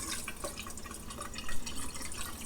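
Strawberries are washed in a bowl of water, giving soft continuous splashing and dripping, close but quiet.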